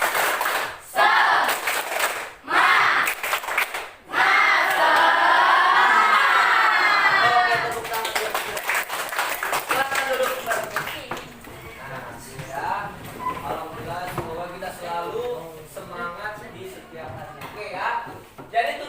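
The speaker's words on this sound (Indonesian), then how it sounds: "Kita mulai tepuk semangat." A class of junior high students claps out a tepuk semangat cheer in rhythmic bursts while loud, close voices chant and shout along, the group noise rising and falling.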